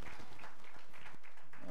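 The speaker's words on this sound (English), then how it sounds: "give Jesus a great big hand clap of praise there" A church congregation gives a hand clap of praise: dense, continuous applause fills the room, with voices mixed in beneath the clapping.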